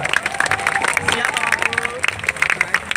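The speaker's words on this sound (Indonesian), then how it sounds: "tepuk tangan." A crowd of youngsters at a night prayer gathering claps in scattered, uneven bursts under a voice and general hubbub.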